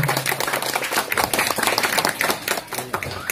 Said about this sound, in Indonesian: Mohon tepuk tangan sekali lagi untuk kita semua.